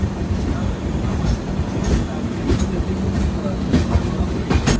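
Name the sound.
Ernakulam–Madgaon Superfast train passing on the adjacent track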